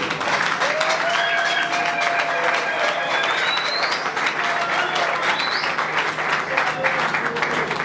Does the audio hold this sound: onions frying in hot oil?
no